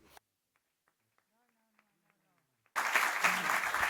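A seminar audience bursts into loud applause for the guest speaker José Antonio Zarzalejos, with many hands clapping densely, and it arrives suddenly after a near-silent stretch with faint speech.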